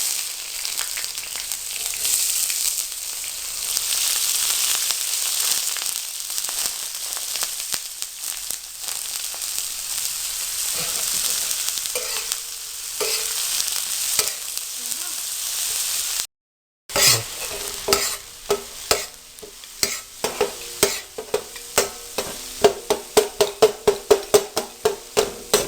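About half a kilo of chopped onions frying in cooking oil for spicy tawa chicken, a steady loud hiss and crackle that runs on, then after a brief cut turns into rhythmic scraping and tapping of a spatula over the sizzle.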